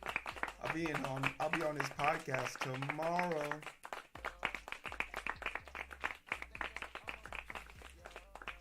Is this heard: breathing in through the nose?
no